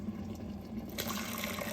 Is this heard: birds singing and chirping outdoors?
no